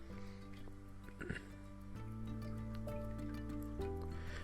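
Thick handmade soap batter, colored orange and starting to thicken, pours and drips with soft, wet squishing sounds, quiet and close, over faint background hum.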